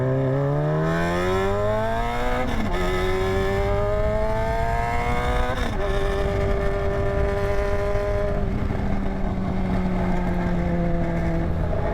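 A motorcycle engine runs loud and raw with its exhaust fallen off, rising in pitch through repeated accelerations with gear-shift drops, and the unmuffled drone stays steady throughout.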